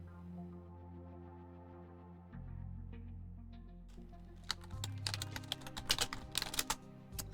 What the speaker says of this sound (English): I'm a super loud typer.